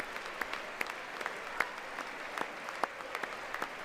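Scattered clapping from members of Congress during a presidential congressional address, sparse, fairly distant claps with sharper individual hits over a steady room murmur.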